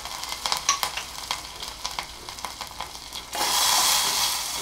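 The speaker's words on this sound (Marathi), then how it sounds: "आपली फोडणी झालेली आहे." Asafoetida, slit green chilies, curry leaves and cumin hit hot oil for a tempering: a few scraping stirs come first, then a loud, steady hiss of sizzling oil takes over and holds to the end.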